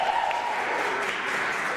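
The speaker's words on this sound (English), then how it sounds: "Wait for applause." An audience claps during a student union election speech, a short, even burst of applause that stays fairly constant with no speech over it.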